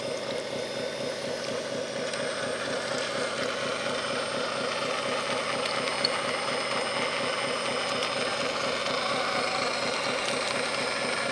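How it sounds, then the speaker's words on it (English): A small motor whirs steadily with a fast buzzing rhythm, holding the same pitch throughout as an RC toy tractor drives slowly. "Nice and slow on the throttle, just letting the tractor do what a tractor does."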